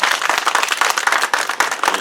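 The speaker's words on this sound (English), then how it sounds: "Let's give them a round of applause." Audience applause at a Pride flag raising ceremony in Soledad, California, dense outdoor clapping from a crowd, loud and steady with sharp individual claps standing out.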